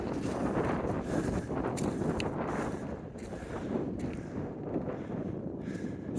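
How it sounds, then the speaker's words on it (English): Strong wind gusts across the top of Flattop Mountain in Alaska, roaring and buffeting the microphone in a dense, continuous rumble that swells and eases slightly throughout. "It's super windy up here."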